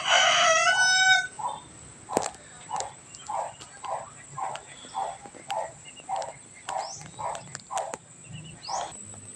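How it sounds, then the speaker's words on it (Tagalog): Pet ducks with their ducklings at feeding time, a rooster crowing loudly at first, then a regular series of rhythmic quacking calls nearby over faint background noise. "Nagpapakain po tayo ng mga alaga nating bibe."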